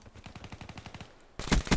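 Rapid automatic gunfire from the video game Black Ops 3, a steady rattling burst for over a second, then two louder, heavier shots close by.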